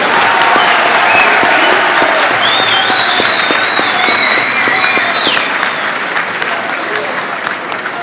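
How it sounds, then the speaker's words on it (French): An audience at a public lecture breaks into sustained, loud applause of many hands clapping together, dense and steady throughout, fading slightly toward the end, with a few faint whoops mixed in. "Acclamons-les!"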